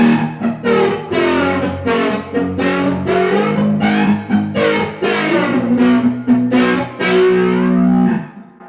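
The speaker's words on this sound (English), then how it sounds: "this flanger is in post mode, and it sounds like this" Distorted electric guitar played in rhythmic chords and notes, with a swirling, sweeping flanger effect in post mode on a Friedman pedalboard throughout, loud and close with no talking.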